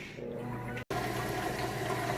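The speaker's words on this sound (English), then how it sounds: "You can hear it draining that water out nice and fast." A Whirlpool HE washer in its rinse cycle drains water with a steady, rushing gurgle and pump hum, briefly cutting out for an instant before continuing at the same level.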